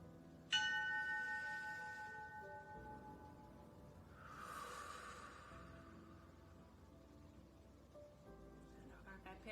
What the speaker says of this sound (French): Soyez concentrés sur le son de la cloche.